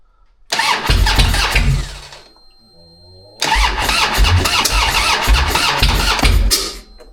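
An engine cranks and catches, running loud and rough for over a second, cutting out, then starting again and running steadily up close, with no talk over it.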